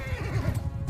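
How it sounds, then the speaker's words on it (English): A horse neighs sharply in a Bannerlord battle, a close, shrill whinny with a quick fluttering rhythm. "My horse didn't like that."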